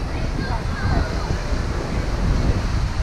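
Surf breaking at Manly Beach in Sydney, heard as a steady broadband wash with some wind noise on the microphone, continuous and fairly close throughout.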